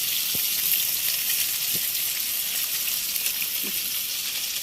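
Fish sizzles and fries in a pan in a home kitchen, a steady hissing crackle up close with a few soft clinks, no talking.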